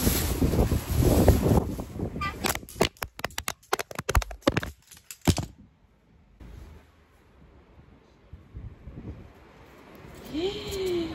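Strong evening wind in Sousse, Tunisia gusts against the microphone in loud, rumbling bursts, then eases into a quieter, hissing breeze.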